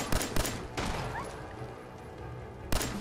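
Gunfire in the video game Fallout 4, a few sharp booming shots at the start and end with a rumbling tail between, loud and punchy.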